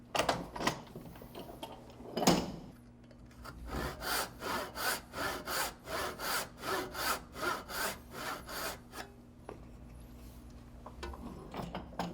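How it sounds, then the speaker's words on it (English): Hand saw cutting a wooden tenon cheek, a steady run of rhythmic rasping back-and-forth strokes at close range, fairly quiet, with a few scattered knocks before and after the sawing. "the saw is going to follow the path of least resistance"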